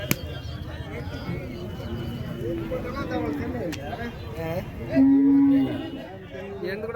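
Cows and calves moo repeatedly at a cattle market, with one loud, long low moo standing out near the end, while a person talks over the herd.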